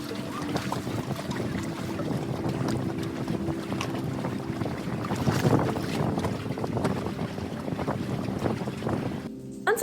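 Steady breeze blowing outdoors by the water, a continuous rushing wind with gusty buffeting against the microphone and a faint low hum beneath, sustained throughout with no talking.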